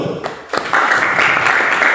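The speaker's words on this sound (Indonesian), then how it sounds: "Oke, tepuk tangan dulu" A class of students claps together during a lesson, with scattered claps at first that build into a dense, steady round of applause.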